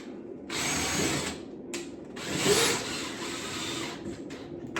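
A power driver spins a screw into the top frame of a soundproof picture window over a slider, with two whirring bursts of moderate loudness separated by short pauses.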